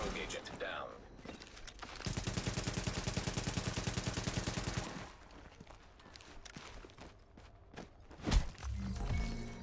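Gunfire in the video game The Division, a rapid automatic burst of about three seconds followed by scattered single shots and game effects, with a voice talking over it.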